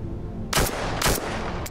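Gunfire in the VR shooter Into the Radius: two loud, near bursts of rapid shots, each about a fifth of a second long and half a second apart, then a third burst starting as the clip ends. A steady rumble sits beneath the shots.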